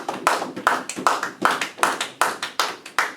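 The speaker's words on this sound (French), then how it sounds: "Est-ce qu'on peut acclamer le Seigneur?" A church congregation claps in steady unison at a brisk, regular beat, about three claps per second, loud and close with no talk over it.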